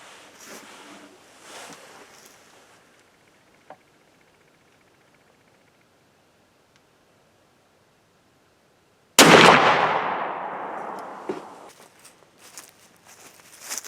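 A single loud shotgun blast of 1 buckshot fired through an improved cylinder barrel, sharp and close, followed by a decaying echo and a few quieter handling noises after a near-silent lead-in.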